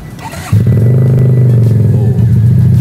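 A Keeway custom motorcycle with an aftermarket exhaust cranks and fires up, settling into a loud, deep, throbbing idle close by.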